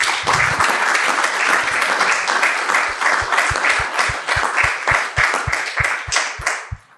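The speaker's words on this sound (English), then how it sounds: "the audience didn't have to ask to applaud you. They did it spontaneously" A live audience applauds spontaneously at the close of a public talk, a dense, sustained wash of many hands clapping steadily throughout, close and loud, thinning slightly at the very end.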